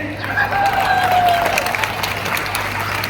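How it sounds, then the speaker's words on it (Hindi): A crowd at a poetry gathering applauds steadily throughout, a dense wash of clapping with a voice faintly carrying over it. "देखो मेरे लिए तालियां बजाओ"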